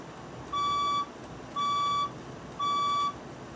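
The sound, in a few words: building fire alarm tones during an alarm test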